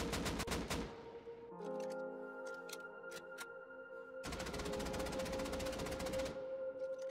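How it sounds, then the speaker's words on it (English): A gun in the video game Rust fires repeatedly in rapid, evenly spaced shots, two loud dense bursts framing a quieter stretch of ringing tones and scattered ticks. "aim with the gun and start firing without any control at least 5 times in a row"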